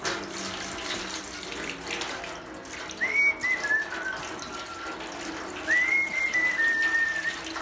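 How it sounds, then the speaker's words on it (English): Steady pouring and splashing of water into a small backyard pond, a continuous close wash with faint whistle-like tones rising over it, and no talk. "he's going to dump that thing of water carefully into our pond"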